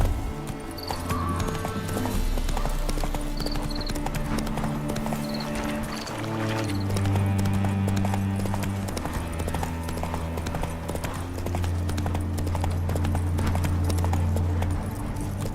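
Rhythmic horse hoofbeats in The Witcher 3 clop steadily over a low droning music bed, with a faint snort or whinny early on; no talking.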